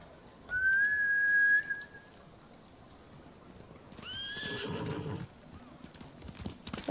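In the video game Ghost of Tsushima, a horse whinnies loudly, then a second neigh follows amid a burst of clattering hooves, with steady background ambience throughout.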